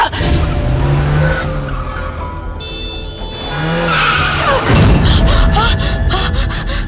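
A car skids and its tires screech loudly in a long squeal that swells partway through, while people talk over the noise.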